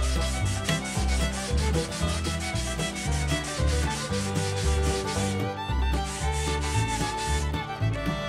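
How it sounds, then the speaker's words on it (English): Hand sanding of Depron foam for an RC plane build, a steady run of rapid rubbing strokes close by, loud and continuous with no talking. "And then sand it like this."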